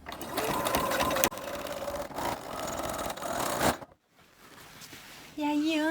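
A sewing machine runs back and forth while backstitching a seam on a ballet bodice, with a steady mechanical whir in short bursts and a brief pause near the end as a voice begins speaking.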